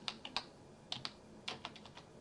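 Someone types text on a computer keyboard, with soft, quiet keystrokes in small irregular clusters and short pauses between them.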